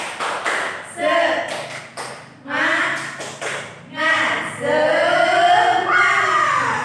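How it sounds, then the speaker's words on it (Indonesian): Group of students responds to a teacher's call in a peer-teaching classroom with a rhythmic clapping chant, several bursts of claps and voices in a patterned sequence, close and loud, with the teacher speaking before it starts. "Tepuk semangat."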